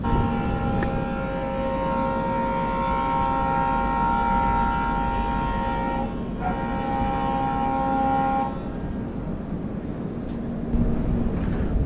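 Mysuru-Shirdi Express pulling through a very small station with no proper platform, a loud steady rumble of the train with sustained tonal hum and horn-like tones that shift and drop partway through.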